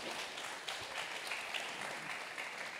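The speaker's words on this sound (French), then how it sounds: "Édouard Sill, historien. Oui, vous pouvez l'applaudir." Audience applause at an outdoor festival debate for an invited historian, steady dense clapping throughout at moderate distance, with no voice over it.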